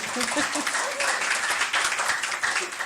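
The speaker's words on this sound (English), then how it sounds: "he deserves a loud applause anyway" An audience applauds at a literary prize ceremony, a brisk continuous patter of many hands at moderate volume, with a voice faintly present beneath it.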